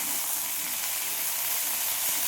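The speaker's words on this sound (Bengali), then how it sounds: "কাঁচা লঙ্কা ফোড়ন দিয়ে দিয়েছি" Green chillies tempering in hot oil make a steady, bright hiss and sizzle, close up and continuous for a couple of seconds, with no talking.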